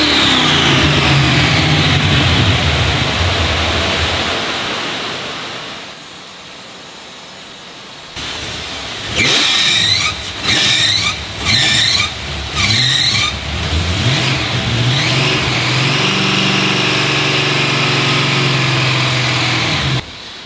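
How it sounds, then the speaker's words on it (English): A Fast & Furious Dodge Charger engine is driven at wide open throttle, first roaring loud, then dropping to a quieter lull before a series of sharp revving bursts climb back into a sustained, strong engine roar. "This is my wide open throttle run."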